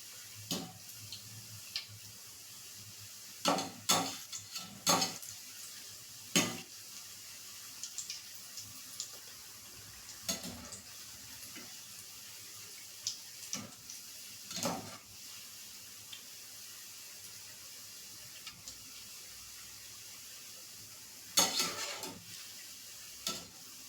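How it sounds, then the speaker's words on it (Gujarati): Green corn pakoda (bhajiya) frying in oil on a low flame, a faint, steady sizzling hiss broken by scattered soft pops and ticks over a long stretch with no talking. "તો આપણા ભજીયા છે તે તળાઈ ગયા છે"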